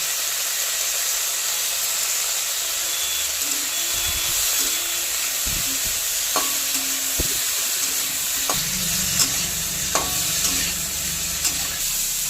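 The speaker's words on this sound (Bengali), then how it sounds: "ফুলকপিটা ভেজে নেব।" Cauliflower florets frying in oil with a little turmeric, a steady close sizzle with some stirring clatter and a few sharp pops, with no talking.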